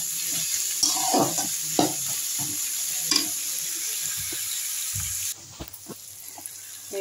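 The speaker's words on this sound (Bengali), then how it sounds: "এই যে পেঁয়াজটা টমেটোটা ভাজা হয়ে গেছে" Onion and tomato frying in a pan with spices, a steady loud sizzle broken by several scraping stirs of a spatula, and a duller, quieter stretch near the end.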